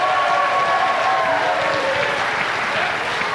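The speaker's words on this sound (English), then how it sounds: "Give her a round of applause" A high school assembly audience claps loudly for a favorite science teacher, a sustained wash of many hands applauding close and full, with a few faint cheers and crowd noise mixed in.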